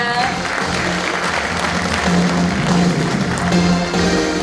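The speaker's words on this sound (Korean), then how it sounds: "여러분 박수로 환영해 주시기 바랍니다" An audience at a Hwaseong city civic talk concert claps to welcome the mayor and citizen panelists onto the stage, steady close applause with sustained tones running underneath.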